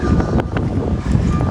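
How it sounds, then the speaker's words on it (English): Steady, loud wind rumbles and buffets the microphone outdoors, with a low roar throughout and no voices. "It's pretty windy out here today."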